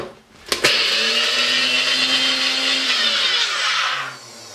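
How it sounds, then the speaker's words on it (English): A Ninja food processor grinds cornflakes into fine crumbs, starting with a sharp click and then a loud, steady high-pitched whir for about three and a half seconds before winding down. "Basically just wanna grind these into a dust so we can roll the buttered potatoes into there."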